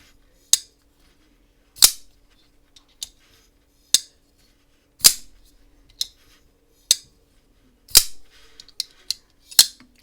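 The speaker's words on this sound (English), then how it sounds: "You reverse flick, you can reverse flick off the studs. It makes an amazingly delicious clicky sound." Sharp, crisp mechanical clicks of a Hinderer Jurassic Hollow Slicer folding knife snapping open and shut, ringing out one at a time at irregular intervals, with quiet pauses between.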